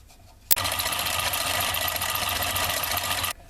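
A small homemade reed switch motor driven by solenoids and battery-powered starts with a sharp click and then whirs in a steady, fast buzzing hum before cutting off abruptly.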